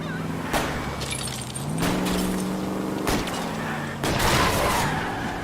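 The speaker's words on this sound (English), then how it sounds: "I'll try to shoot out his tires." A car chase in L.A. Noire with shots fired at a fleeing car's tires: sharp gunshots and crashing impacts ring out over a running engine drone, with voices faintly under the action.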